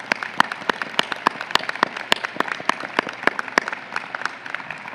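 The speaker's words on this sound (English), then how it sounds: "Let's give these outstanding graduates a round of applause." An audience at a College of Medicine commencement ceremony applauds the graduates with sparse, distinct claps at moderate distance, individual hand strikes standing out from a thin background.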